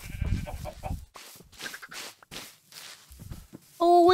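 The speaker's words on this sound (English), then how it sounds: "I have, I think, a singular goat." A single goat in Minecraft gives a few bleats amid soft game ambience, with a person talking over parts of it, and a bright tonal burst closing the stretch.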